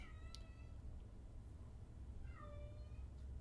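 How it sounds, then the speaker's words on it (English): A cat gives two drawn-out meows, one at the start and one a couple of seconds later, heard faintly over steady room noise. "There's a cat that it probably sounds like it's screaming for her life. That's just her regular meow."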